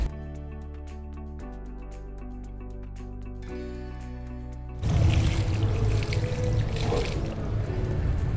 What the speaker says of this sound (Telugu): చిన్న మొక్కలు అయితే మొక్క సైజుని బట్టి మనం నీళ్లు పోయాలి